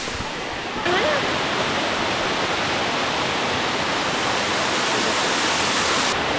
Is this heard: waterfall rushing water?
yes